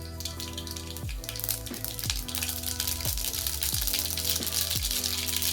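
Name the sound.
mustard seeds sizzling in hot oil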